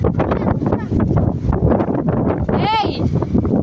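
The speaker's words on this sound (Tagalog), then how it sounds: "Hangin, ah." Wind gusts buffet the microphone in an open field while someone flies a paper kite, a rough, continuous blustery roar. Voices talk over it, with one brief high call near the end.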